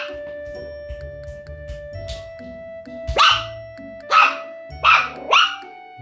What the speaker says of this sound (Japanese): 私の足を、膝を立てると、びっくりして吠えてます。